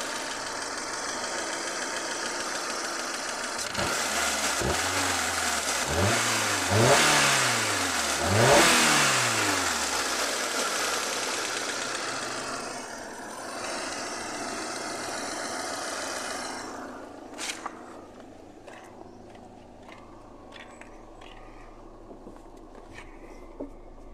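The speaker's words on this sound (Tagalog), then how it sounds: "Kaya nung pinaandar ko ito mga boss, sinubukan ko muna kung nag-overheat pa ba yung sasakyan." A car engine is started and revved after an overheating repair. Several rising and falling revs come first, then it settles to a steadier running note, and a few clicks and knocks follow as it quietens near the end.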